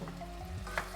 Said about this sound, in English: Oh yeah, that's frying, that's looking great at the moment